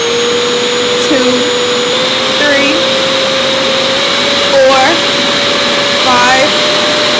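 A Revair suction hair dryer motor whirs loud and close with a steady high whine, its pitch stepping up briefly as the speed settings change, while a voice talks over it.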